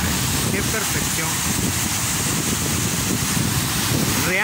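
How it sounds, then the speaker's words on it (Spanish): A waterfall about seven or eight metres away pours in a dense, continuous broadband rush, loud and steady throughout with no pauses. "Es una cascada realmente, mira, mágica."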